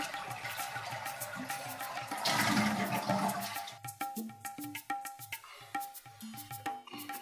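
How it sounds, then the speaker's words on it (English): A toilet flushes during a repair for low bowl water level, with a rushing surge of water, then gurgles and drains as the tank refills with trickling, dripping sounds. "we want to flush the toilet one more time to remove the water from the toilet tank"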